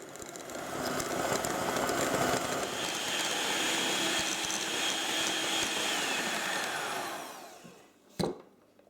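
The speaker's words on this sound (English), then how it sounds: "Use a handheld electric whisk on slow speed to mix it all together." Handheld electric whisk on slow speed mixing brandy butter, a steady close whirring drone running for about seven seconds before cutting out, followed by a brief clatter.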